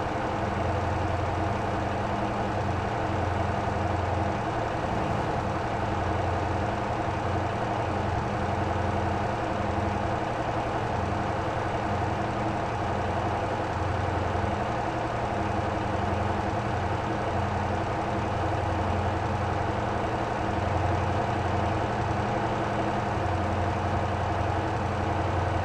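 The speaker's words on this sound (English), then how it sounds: "I think I also heard car engine start up in the water." A car engine in the driving game Motor Town runs steadily at idle, a continuous low rumble that stays even and moderately loud for the whole stretch with no talking over it.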